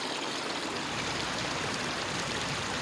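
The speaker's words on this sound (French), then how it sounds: "une petite vidéo près de cette magnifique rivière que vous entendez juste derrière moi" River water rushes in a steady, broad wash of flowing noise nearby, loud and unbroken, heard alone without any voices.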